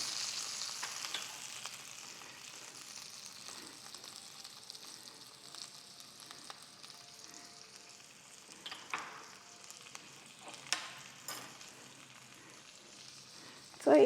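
Chicken leg pieces seasoned with salt roast in a pan, giving a steady, soft sizzle throughout with occasional brief clatter near the end.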